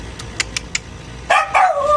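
An old dog lets out a few short, quick yips at close range, followed by two louder, drawn-out barks.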